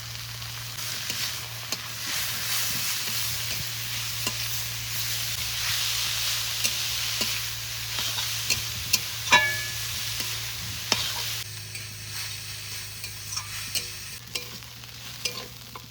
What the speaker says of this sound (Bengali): মূলো শাক ভাজা হয়ে গেছে, এবার নামিয়ে নেবো